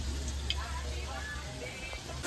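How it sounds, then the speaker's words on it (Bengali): Spices sizzle steadily in a pan while chicken curry masala is browned, a faint continuous crackle and hiss with light stirring, close by and quiet throughout. "মশলা কষানো হয়ে গেছে"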